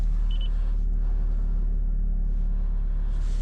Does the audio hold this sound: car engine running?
yes